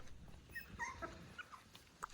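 A small mother dog in a yard gives faint, high whimpers and soft yips, a few brief cries spread across a quiet moment.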